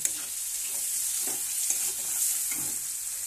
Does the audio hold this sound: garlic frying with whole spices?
yes